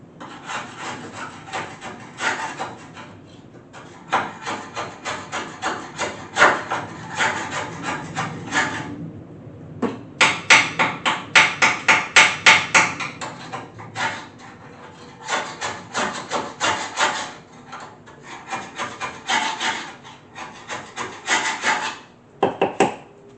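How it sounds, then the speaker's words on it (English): A small hand scraper from Harbor Freight is dragged over rusty metal in repeated rapid rasping strokes. The strokes come in close, loud bursts with short pauses between them. "Take this little scraper thing. I don't know, I got it from Harbor Freight."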